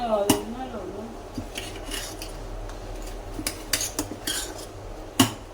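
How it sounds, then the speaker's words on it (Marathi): Dosa batter is stirred with salt in a bowl by a metal spoon or ladle, giving irregular clinks and rubbing scrapes against the bowl, with a few sharper knocks over a low background hum. "हे बॅटर आहे हे व्यवस्थित मिक्स करूया आता मीठ टाकलं आहे ना आपण ह्याच्यामध्ये तर हे चांगल्यापैकी मिक्स करून घेऊया"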